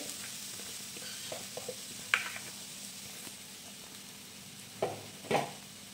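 Faint sizzling of grated raw mango cooking in a kadhai, with a few soft clinks and stirring taps, quiet and steady throughout.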